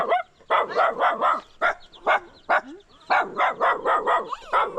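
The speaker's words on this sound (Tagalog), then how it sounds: "mga aso po." Several dogs bark loudly and repeatedly close by at a house beside a ravine, overlapping yips and barks in quick bursts with only brief pauses between them.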